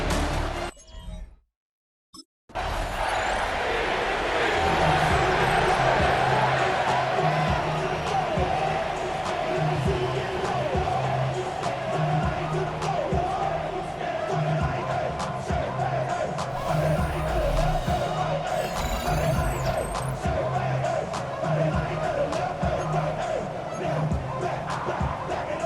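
A stadium crowd roars at a Jets home game in Madden 26 football, a dense sustained swell of cheering that fills the space after a brief dropout near the start, with a commentator talking over it.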